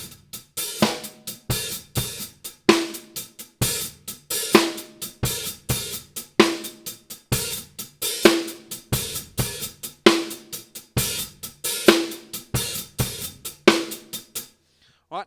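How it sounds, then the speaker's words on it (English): A drum kit groove of single-stroke sixteenth notes, mostly on the snare, with the odd hand moving up to the hi-hat. Crisp, close hits repeat in a steady looping pattern for about fifteen seconds, with no talking. "play most of our notes on the snare, and then just chuck the odd hand up to the hi-hat"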